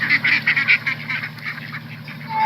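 Ducks being fed quack and honk loudly at close range, a rapid run of repeated nasal calls that trails off toward the end.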